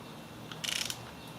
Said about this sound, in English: So we get the socket on top of it. Okay, and we're going to go ahead and remove it.